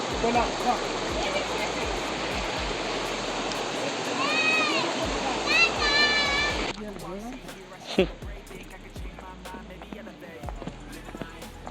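Rushing water of a waterfall flowing down from the hills, a steady broadband roar filling the first half and then dropping to a softer rush, with people talking and footsteps over it.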